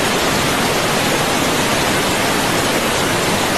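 Water flowing steadily from a Novita bidet with no holding tank, a loud, even broadband rush that stays constant and close throughout, with no voices.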